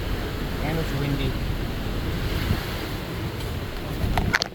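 Strong wind buffets the microphone over rushing, churning storm-surge water along a flooded riverside, steady and close, with brief voices talking faintly underneath.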